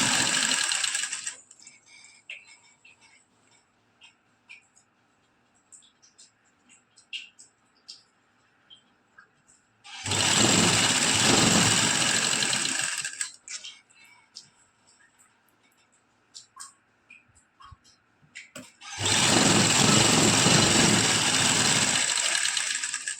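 Two bursts of a sewing machine stitching a salwar belt, each a loud rapid whirring run of several seconds separated by quieter handling noises and soft speech.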